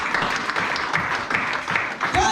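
Church congregation clapping and cheering in praise during a worship service, a steady dense wash of applause with voices mixed in, fairly loud and continuous.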